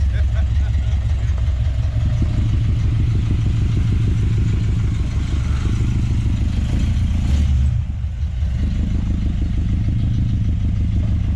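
A 1970 Plymouth Duster with a 340 V8 runs at a steady fast idle around 1500 rpm, a loud, close, lumpy rumble continuing throughout with a brief dip near the eight-second mark, while people talk over it.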